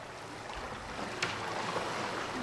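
Flowing river water played as a sound effect in a stage production of Eurydice, a steady, close, rushing wash with no voices over it.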